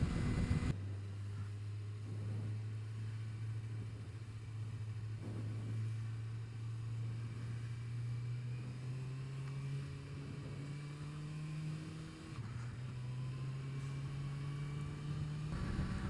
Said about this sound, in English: I can't even hear the exhaust note. I just hear all wind.